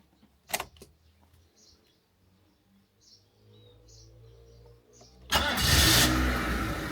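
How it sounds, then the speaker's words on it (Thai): A Ford Fiesta engine starts after sitting unused for two months: a faint clunk, quiet ticks, then the engine catches near the end and roars into a loud, steady run. "เดี๋ยวผมจะ ติดเครื่องให้ดูนะครับ"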